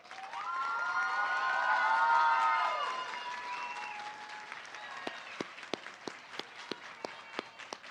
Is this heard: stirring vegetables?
no